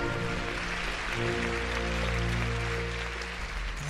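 Audience applause greets the arrival of award presenters at a parody Oscars ceremony, a dense, even wash of clapping with a low musical drone underneath for the whole stretch.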